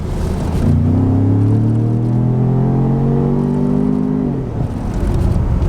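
A 2018 VW Tiguan SEL SUV accelerating hard in second gear after a paddle-shift downshift, the engine note climbing steadily in pitch for several seconds before easing off; close, loud and continuous, with no talking.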